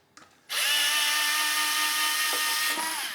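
A power screwdriver whines steadily while backing Phillips screws out of a Navee S65 electric scooter, starting after a brief click and holding one continuous, close, loud run with no talk.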